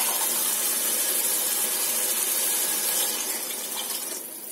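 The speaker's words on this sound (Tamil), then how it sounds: "இந்த டைம் வந்து வாட்டர் ஆட் பண்ணிக்கலாம்." Water poured into a pot of rice, a steady rushing gush that runs evenly and eases off toward the end, heard up close without any talking.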